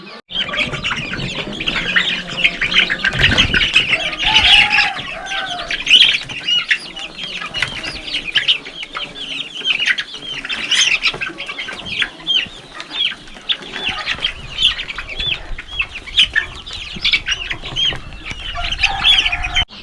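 Kairali chickens, young birds about 15 to 18 days old, cluck and squawk continuously in a poultry shed, with bursts of wing flapping and busy overlapping calls throughout.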